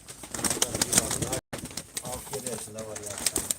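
Close birds flutter and coo, with soft wing flaps and rustling, while people talk nearby; a brief dropout interrupts the sound midway.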